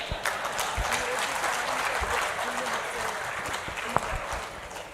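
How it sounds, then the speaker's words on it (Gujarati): Audience applause fills a motivational speech hall, a dense, steady wash of clapping from many hands that holds through the whole stretch, with a sharper single clap near the end. "પડી ગઈ તાળી"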